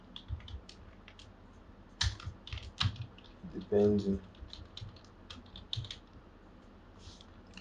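Typing on a computer keyboard while coding in C, with bursts of sharp, fairly close key clicks scattered across the passage and a single spoken word among them.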